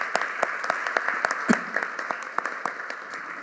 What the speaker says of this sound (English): So let's give our teachers a big, big, big round of applause.